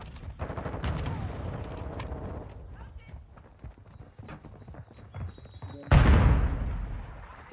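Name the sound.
gunfire in the video game Modern Warfare 2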